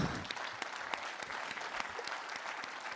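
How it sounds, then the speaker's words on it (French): Audience at a French insurance federation congress at Puy du Fou applauds steadily, a dense, even wash of many hands clapping with no talk over it. "vous pouvez les applaudir"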